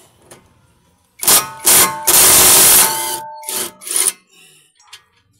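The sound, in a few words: impact wrench loosening bolt on Mitsubishi Mirage G4 brake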